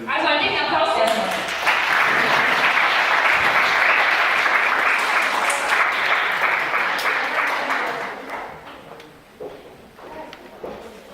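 An audience at a live presentation breaks into loud, dense clapping that holds steady for several seconds, then fades out into scattered claps and room noise.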